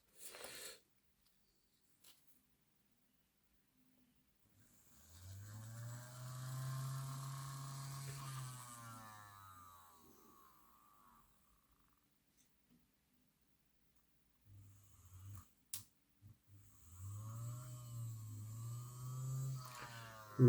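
A small electric motor and flywheel in a Hattons Class 66 model locomotive, freshly treated with contact cleaner during a repair, whirs close by in two bursts of rising and falling whine separated by a quiet pause.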